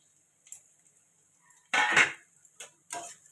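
Onion and ginger paste masala is sautéed in a pan for a fish curry, heard as a few separate scraping and clinking strokes of a spoon against the pan, with quiet gaps between them.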